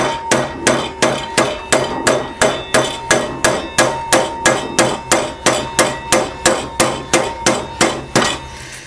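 Steady, rhythmic hammer strikes on a steel rifle action wrench clamped to a Remington M1903 Springfield receiver, about twenty sharp metallic taps at even pace, close and loud with ringing overtones and no talking.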